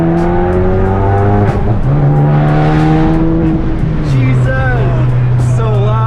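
Ford Focus ST or RS on air suspension, fitted with a catless downpipe, accelerating hard on a test drive: a loud, rising engine note climbs through the gears with shift breaks, heard close from inside the car.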